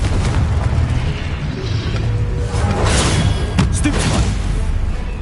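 Confringo spell blasts in Hogwarts Legacy roar as a continuous loud, close barrage of booming explosions, with whooshes and a sharp crack partway through.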